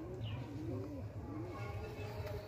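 Small, short-bodied Madrasi pigeons coo close by in repeated rolling, wavering calls, with soft background murmur and a faint voice in the mix.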